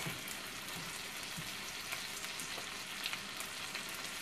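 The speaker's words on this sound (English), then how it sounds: "So I'm just going to fry this corn around a bit." Corn frying in a cast iron skillet gives a quiet, even sizzle and crackle with faint scattered pops and light scraping as it is moved around the hot pan.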